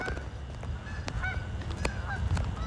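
Geese honking repeatedly in a loose chorus, several calls overlapping at moderate distance over steady outdoor background noise.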